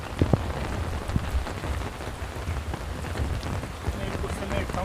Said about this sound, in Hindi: और अब क्या है, इस बारिश भी बहुत तेज़ वाली आई है।